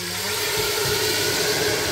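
Water splashing into a pot of browned onions, a short steady sizzling hiss close up with no voice over it.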